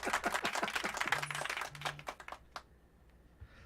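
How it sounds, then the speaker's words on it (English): A short, quiet smattering of claps from a few people in a small room, fading out after about two seconds and leaving near silence with a faint hum. "That gets the golf clap right there."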